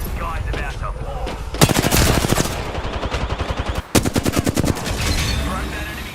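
Bursts of rapid enemy gunfire in a shooter video game, dense automatic volleys repeating across the stretch with a short pause between bursts, loud and close, with no talking over it.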